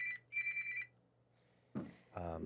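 A work phone's ringer trills in two short electronic bursts, fairly close, then a voice starts talking.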